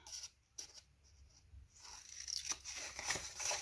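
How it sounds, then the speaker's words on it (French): Scissors snip the corners of paper tabs for a vintage library scrapbook album page, giving quiet, close crisp cuts and rustles that come in a few separate bursts with short pauses. "Comme d'habitude, on va couper les coins des languettes."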